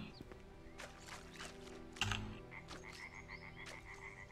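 A frog croaks in a horror video game, a run of short, evenly spaced croaks at moderate level over a quiet ambient bed, with a brief thump partway through.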